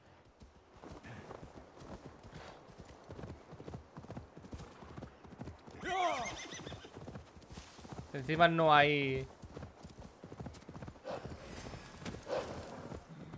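Horse hooves clip-clop in the Assassin's Creed Valhalla video game, a quick steady rhythm running throughout, with a couple of loud whinnies midway and someone talking over it.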